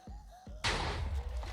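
In a Minecraft tunnel bore TNT miner in a video game, two short thumps are followed by a loud, sudden burst of noisy roar, like a close explosion, that sustains to the end.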